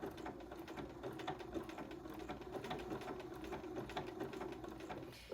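A sewing machine stitches a buttonhole stitch around a fused fabric appliqué, running as a steady, fast mechanical whir with quick rhythmic needle clatter, close and continuous with no talking.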